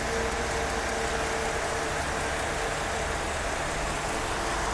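A Nissan car with a 2.4 engine, imported from Japan, idles smoothly with a steady, even rumble. The sound is loud and close, with no talking over it.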